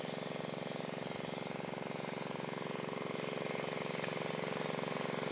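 A crop spraying machine's small engine runs during organic spraying in a citrus orchard, giving a steady, close, continuous drone with no break.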